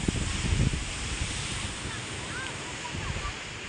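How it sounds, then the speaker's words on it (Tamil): Ocean waves crash on the shore at Dhanushkodi, a continuous roaring surf with wind buffeting the microphone and one heavier surge near the start. "பாருங்கள் அலை எப்படி அடித்து வருது பாருங்கள்."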